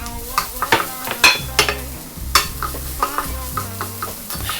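Carrots stir-fried in a hot wok for pancit canton, with spatula scrapes and clanks over a steady sizzle and a low background hum.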